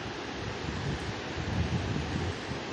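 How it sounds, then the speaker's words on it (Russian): A turbulent mountain river in the Chegem gorge rushes below a suspension bridge, a steady broadband roar of churning water with low wind-like rumble, continuous and moderately loud. "Очень бурная река."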